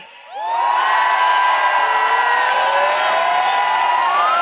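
Protest crowd at a December 2020 demonstration erupting into loud cheering and whooping that swells after a quiet start and holds steady, with many voices shouting together.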